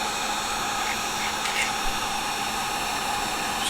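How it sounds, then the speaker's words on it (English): A heat gun blows steadily while melting the nylon sheathing on a Farmall tractor wiring harness, a constant close airy hiss with no breaks. "a heat gun is good at kind of like with nylon rope, just taking care of those frays"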